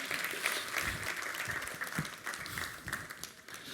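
An audience at a microphone technology presentation claps for a few seconds in a steady, moderately loud spread of overlapping hand claps, with no talking.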